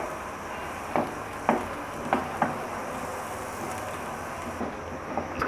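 Boiled lentils fry in a pan for Bengali butter halua, giving a soft, steady sizzle broken by a few light stirring scrapes and clicks, with no talking.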